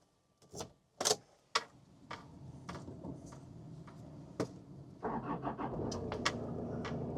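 A 1996 Toyota Caldina diesel wagon starting up: a few loud clunks and clicks of the door and key, a short cranking burst, then the engine catches and settles into a steady, rattling diesel idle nearby.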